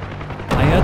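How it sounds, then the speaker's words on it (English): Explosion in the DCS flight simulator game, near a Huey helicopter and an orange smoke marker: a sudden loud broadband blast about halfway through, rumbling on after a quieter stretch of game noise. "I heard the explosion."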